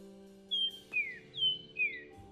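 Cartoon character whistles in imitation of a bird, four clear chirping phrases in a row, close and alone over a faint steady hum.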